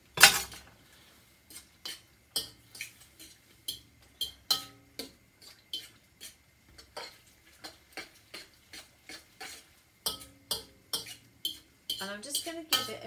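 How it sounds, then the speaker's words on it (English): Spoon stirring tom yum soup in a pot, producing a steady run of short metallic clinks and scrapes against the pot, evenly spaced and close, with quicker rattling taps near the end and no talking. "Right, so give this a bit of a stir."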